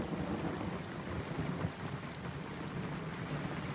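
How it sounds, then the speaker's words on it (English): Heavy rain drums steadily on the steel roof of a narrowboat moored at Foxton Locks on the Grand Union Canal during a thunderstorm, with low thunder rumbling through a dense, continuous wash of close, loud patter. "the rain thundering on the steel roof of the boat"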